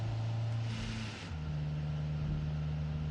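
In the BeamNG.drive video game, a pickup truck engine drones steadily around 2,000 RPM as a low, even hum with a faint gear-change dip partway through, alone and fairly quiet.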